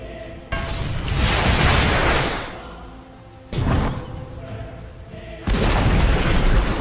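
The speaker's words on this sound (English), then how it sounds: "Dire's middle tower has fallen." Explosions from a tower being destroyed in the Dota 2 video game, three heavy booming bursts with whooshing tails separated by short lulls, loud and close, with no talking.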